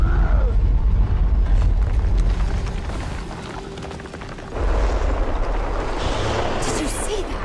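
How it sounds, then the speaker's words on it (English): A magical Bloodstone explosion in the Guild Wars 2 game: a loud, heavy rumbling blast that eases briefly and then surges again, with a voice speaking over it. "That Bloodstone explosion seemed to trigger some sort of magical echo."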